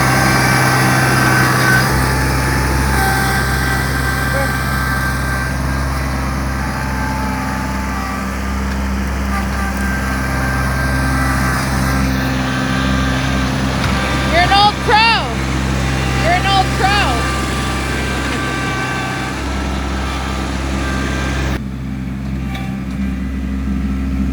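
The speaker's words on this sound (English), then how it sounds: "I think I hear the tractor coming." A steady tractor engine drone runs throughout as it approaches in winter, with bird chirps around the middle and voices talking under it before the noise drops off near the end.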